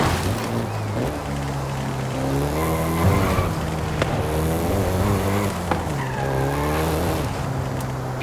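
A Volkswagen Golf GTI in Forza Horizon races along with its engine revving up and down through shifts while the tires squeal and skid repeatedly, loud and close with no talking.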